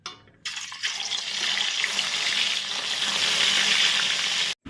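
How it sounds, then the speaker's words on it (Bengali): Fish frying in a pan gives a steady, loud broadband sizzle that runs almost unbroken for several seconds after a brief quiet start, then cuts off abruptly. "তো চলো এবার ঝটপট আমি মাছগুলোকেও ভেজে।"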